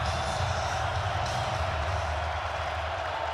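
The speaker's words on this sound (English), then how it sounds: "Crowd at the Fargo Dome trying to affect this third down and 5 play" A steady roar from the crowd fills the Fargo Dome during a North Dakota State vs. James Madison FCS semifinal college football game, heard as a continuous loud wash of noise.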